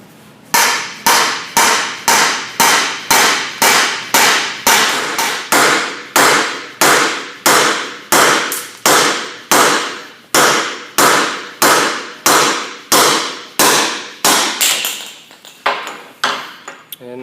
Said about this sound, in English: let's go ahead and hammer this one out.